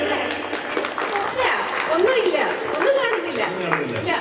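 An audience at a ganamela stage show claps steadily in a live hall, with a loud amplified voice speaking over the applause the whole time.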